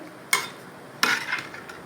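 A spoon stirs egg biryani pasta in a pressure cooker, giving two sharp metallic clinks about a second apart, the second followed by a short, soft scrape. The sound is close and fairly quiet, with no talking.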